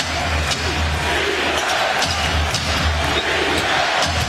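A packed NBA arena crowd at a 2008 Celtics–Cavaliers Game 7 rises and roars in a dense, sustained wall of cheering, with sneakers and bouncing ball sounds scattered through it.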